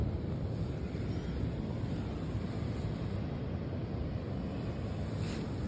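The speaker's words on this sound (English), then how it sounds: "noise from the waves, it's just fucking unbelievable" Ocean waves crashing outside at night around four in the morning, heard as a constant dense roar of surf and wind with no distinct breaks, steady and fairly loud, no talk.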